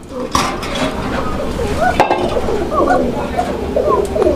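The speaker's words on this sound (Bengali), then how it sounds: "আমি হাড়িটা একটু সরাই দেই" A cooking pot clanks briefly as it is shifted, with a second knock later, while pigeons coo softly in the background.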